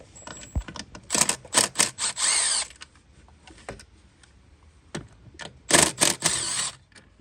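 A power tool works on inverted Torx E10 bolts on a Porsche 911 Turbo 997.2, giving bursts of high whirring and rattling in several short runs with quiet gaps between, nearby and moderately loud.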